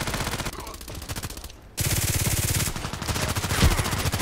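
A Glock 18 fires full-auto in a video game, rapid loud bursts of gunshots with a short pause, then more sustained automatic fire.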